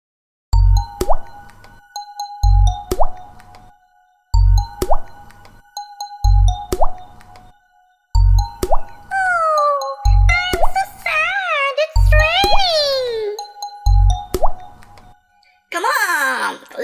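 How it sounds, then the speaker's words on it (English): Cartoon raindrop effects in a children's rain song, sounding as a steady, rhythmic run of bright plops and drips that repeats about every two seconds, with squeaky crying-like cartoon sounds joining in toward the end. "Dripsy, dripsy rain, pouring on the ground."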